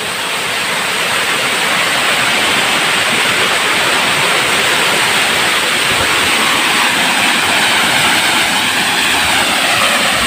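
A loud, steady rush of falling water at Binuang Falls, a dense continuous roar with no pauses.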